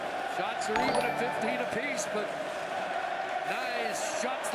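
Toronto Maple Leafs home crowd roaring and chanting in a hockey arena during Game 3 of a Stanley Cup playoff series against the Boston Bruins, a steady wash of crowd noise under continuous play-by-play commentary.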